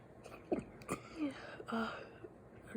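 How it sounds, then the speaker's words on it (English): A person tries to sneeze, giving several short, soft breathy bursts and catches of breath in quick, irregular succession at close range, fairly quiet overall. "I'm trying to sneeze."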